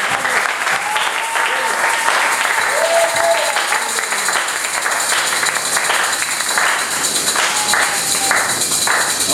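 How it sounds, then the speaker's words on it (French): A church congregation applauding during a sermon, sustained crowd clapping that stays loud and constant, with a voice calling out over it and brief sung or shouted tones rising above the claps. "On applaudissez pour le Seigneur."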